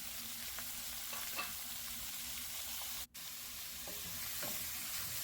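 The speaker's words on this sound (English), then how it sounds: "So I'm just gonna fry the saltfish to it have a little crunchiness." Saltfish frying in a pot with little oil, a faint steady sizzle and soft stirring scrapes heard from close by, with no voices.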